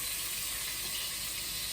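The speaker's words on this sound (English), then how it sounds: "So let that butter sizzle away" Butter sizzling in a hot pan on a stovetop as the base for butter chicken, a soft, steady, faint hiss with no talking.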